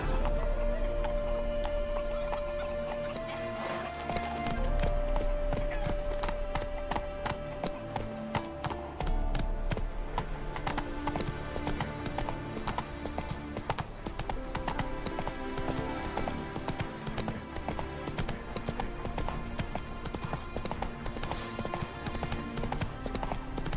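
Roach the horse from The Witcher III trots with steady clip-clopping hooves over a continuous music score, the hoofbeats regular and fairly close throughout.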